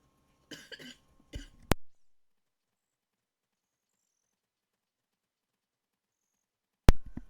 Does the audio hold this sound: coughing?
yes